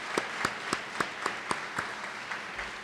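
Audience applause honoring a student at a mayor's recognition ceremony for Rochester school students, a few steady, evenly spaced claps standing out over a faint patter that fades by the end.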